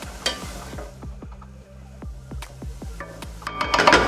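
Chopped onion, carrot and celery are stirred in a frying pan for a traditional fricandó, with rhythmic spoon scrapes and knocks over a gentle sizzle, close and without speech.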